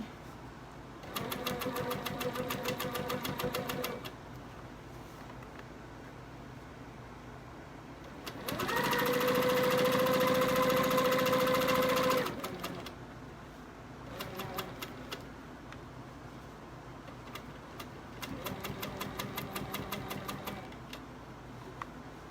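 A sewing machine stitches a quilted table runner in several separate bursts of rapid needle chatter, with the longest and fastest run in the middle. Quiet pauses fall between the bursts.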